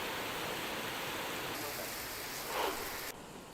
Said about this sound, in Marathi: मंडणगड तालुक्यात मुसळधार पावसानं हजेरी लावली असून